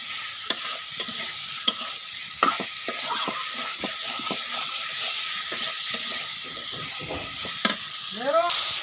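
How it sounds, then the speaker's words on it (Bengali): Fried meat with potatoes and spices is stirred hard in a pan: a steady sizzle with scraping and clattering utensil strokes at an uneven rhythm, close and fairly loud, with no speech. "এখন গোশটাকে ভালোভাবে কষিয়ে নিচ্ছি।"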